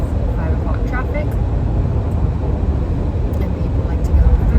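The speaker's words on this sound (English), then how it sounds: "it is kind of crazy right now with 5 o'clock traffic" Dense rush-hour highway traffic heard from inside a moving car, a loud, continuous low rumble that stays steady throughout.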